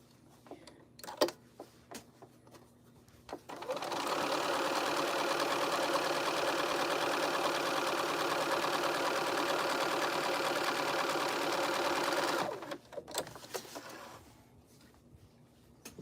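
A sewing machine runs a straight stitch in one steady, continuous burst of about nine seconds, fairly loud and close, with quiet handling clicks before and after.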